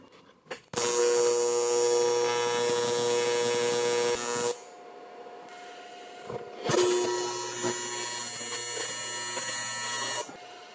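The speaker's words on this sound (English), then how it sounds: "let's put a couple of small tack welds into place." Tack welding steel dustpan parts produces two sustained, harsh electric buzzes, each a few seconds long, separated by a short quiet gap. The arc sounds close and fairly loud.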